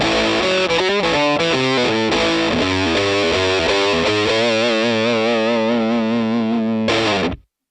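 Distorted electric guitar riff played through an amp rig built on a HeadRush pedalboard and captured by a modeled 57 mic, with chugging palm-muted low notes and ringing chords for about seven seconds before cutting off abruptly.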